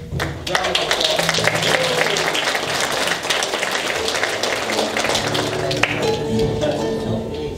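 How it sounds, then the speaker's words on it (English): A church congregation applauds a visiting music group during a Sunday service, with brisk, full clapping throughout and some scattered voices and cheers mixed in as it gradually thins. "So let's give the Arizona Wildflowers a round of applause."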